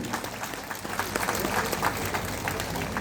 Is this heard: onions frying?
no